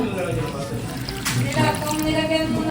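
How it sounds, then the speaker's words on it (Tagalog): Water poured into a cooking pot of galunggong fish with santol fruit pinangat gives a steady, close splashing rush that cuts off abruptly, with a voice speaking over it. "Ito po ay lalagyan ko din po ng tubig."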